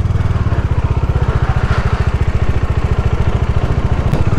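A motorcycle engine runs steadily at close range with a loud, rapid, even low thumping throb as the rider rolls to a stop near a dam in Madurai, with no talking over it.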